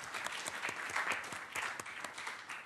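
Audience applause at a UN oceans session conference event: many hands clapping in a dense, sustained wash with scattered sharper claps, steady and fairly loud for the whole stretch, with no voices over it.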